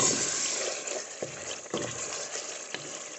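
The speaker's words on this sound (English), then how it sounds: "I'm gonna just go ahead and stir it." Whole wheat spaghetti being stirred in a cooking pot, with a steady bubbling, sizzling wash and a few soft scraping knocks from the stirring utensil, close and alone.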